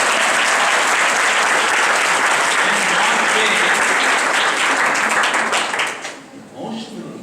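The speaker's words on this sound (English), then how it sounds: "Wonderful, come on, clap." A seminar audience breaks into loud, sustained applause that fills the room for several seconds before tapering off near the end, with a voice faintly audible in the last moments.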